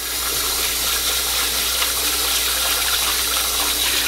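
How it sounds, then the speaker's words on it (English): Glutinous rice is rinsed under a strong, steady rush of running water that splashes and gushes continuously at close range, with no voices. "I do like to rinse it a few times."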